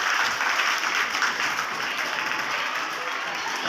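Sustained applause from a crowd gathered at a school farewell ceremony for a departing teacher, dense steady clapping filling the whole stretch at an even level without pause.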